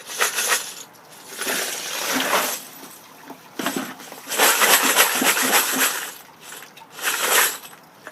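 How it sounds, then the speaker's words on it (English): A strainer of wet brass cases and small steel tumbling pins is shaken in several rhythmic bursts, giving metallic rattling and splashing that swells and fades with pauses between. "Shake out as much of the water and pins as possible."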